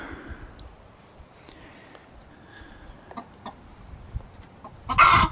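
Backyard chickens with a rooster cluck softly in the coop amid scattered light knocks and rustling, ending with a sudden loud squawk at the close.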